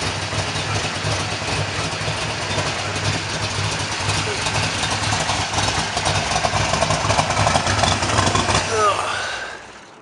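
A 1971 Corvette Stingray engine idles with a deep, steady rumble close by, running evenly before cutting off abruptly at the end.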